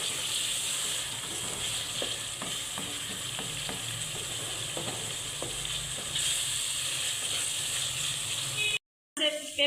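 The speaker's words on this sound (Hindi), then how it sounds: "अब अच्छे से इसको मिक्स करेंगे। बस 1 मिनट तक हम इनको भूनेंगे।" Potato pieces and cumin powder masala sizzle steadily while being stirred and roasted in a pan, a constant close frying hiss broken by scraping stir strokes, ending with a brief dropout.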